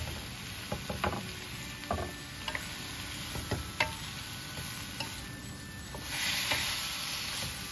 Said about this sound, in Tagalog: Tapos, konting halo lang.